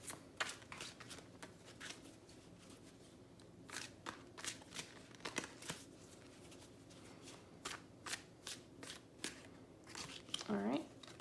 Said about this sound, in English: I'm going to pull some tarot cards from our Oceanic Tarot here for the feminine energy.